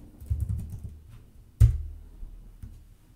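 A command is typed on a computer keyboard, producing a short cluster of soft key clicks followed by one sharp, louder keystroke, then a few faint taps in a quiet room.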